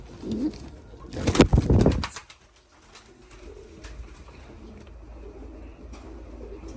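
Ornamental pigeons cooing at close range, low soft murmuring calls, with a brief loud burst of wing flapping early on before the quieter cooing continues.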